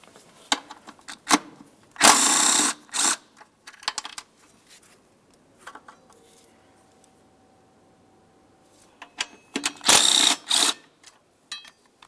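Two 10mm bolts and an EGR tube bracket removed from a Mercury Grand Marquis engine, heard as bursts of ratchet clicking with short metallic taps and clinks between quiet gaps, no talk.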